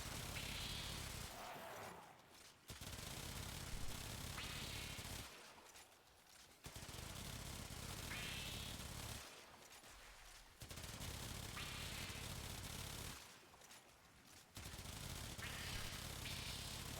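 Long sustained bursts of rapid automatic fire from the Aksomati Prime in a video game, four or five loud continuous streams separated by short pauses.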